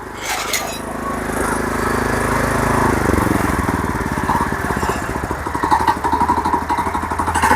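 A 7 HP petrol power weeder engine runs close by with a steady roar, then settles into a rhythmic, chugging pulse.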